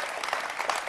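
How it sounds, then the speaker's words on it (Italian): An audience claps steadily through a short burst of applause at an Italian talk event, a dense, even patter of many hands with no voices over it. "Applaudono."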